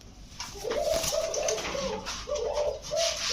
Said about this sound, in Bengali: অ্যাশ চোখের কবুতর পুরো অ্যাশ চোখের কবুতর